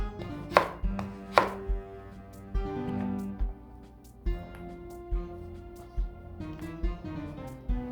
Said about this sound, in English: You take these flat sides now and you just julienne them to the size of French fry you want.